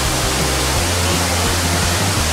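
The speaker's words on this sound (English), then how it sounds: "I'm in the stinking jungle swimming in waterfalls." Kathu waterfalls in the jungle roar as a dense, constant rush of falling water, loud and close, filling the scene without a break.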